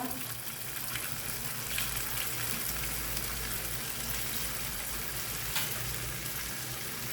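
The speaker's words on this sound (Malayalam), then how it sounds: "എണ്ണയൊക്കെ നല്ലവണ്ണം ചൂടായിട്ടുണ്ട്. അപ്പോൾ നമുക്ക് മീഡിയം ഫ്ലെയിമിൽ വെച്ചിട്ട് ഓരോന്നായിട്ട് ഇട്ട് കൊടുക്കുക." Small beetroot snacks fry in hot oil over a medium flame, giving a dense, steady, close sizzle with a constant hiss that barely changes from start to finish.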